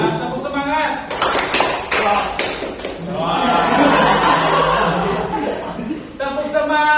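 A class of students performs the 'tepuk semangat' clapping chant: quick rhythmic claps blend with many voices chanting together, then laughter and a teacher's voice follow.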